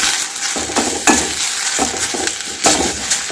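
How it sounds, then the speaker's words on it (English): Tamarind and curry leaves fry in a pan while a spice powder is made, giving a steady close sizzle broken by rhythmic scraping stirs every half second or so, with no talking. "Let it fry nicely until the moisture completely gets absorbed"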